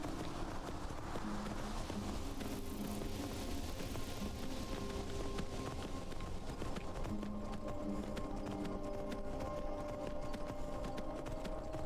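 Horse hooves galloping in Skyrim Special Edition, a steady rapid clip-clop of hoofbeats running continuously under faint game ambience, no talk.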